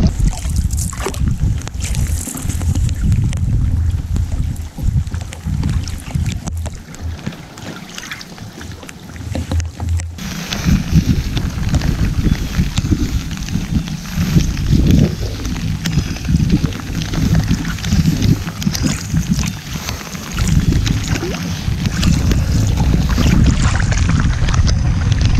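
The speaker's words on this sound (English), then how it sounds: "we're gonna be paddling into the wind here for a bit" A canoe with a dog aboard paddled into the wind on a multi-day wilderness trip, steady low wind rumble and water wash throughout, heavier buffeting in the second half, with faint splashes.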